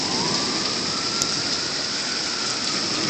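Heavy sudden downpour in Dallas, a dense, constant roar of rain hitting surfaces nearby, steady throughout with no voices.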